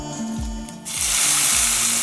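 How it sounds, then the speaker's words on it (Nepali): Stirring onions, mustard seeds and green chillies frying in a pan for saag: steady loud sizzle rising after a moment, with low scraping stir strokes repeating about every half second. "अब सबै सामग्रीहरूलाई चलाउने।"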